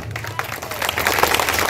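A village crowd at a lavani stage show claps in a brief, dense, loud burst that grows toward the end, with scattered crowd voices mixed in.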